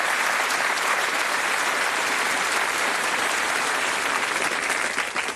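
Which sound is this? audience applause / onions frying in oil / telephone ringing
audience applause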